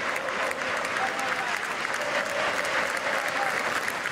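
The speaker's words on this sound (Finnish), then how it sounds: "HJK-kannattajat hytkyvät, rytkyvät ja huutavat, minkä jaksavat tällä hetkellä." HJK football supporters roar, chant and clap steadily in the stadium during a 4-2 match against FC Honka, a dense, continuous wash of crowd noise with no let-up.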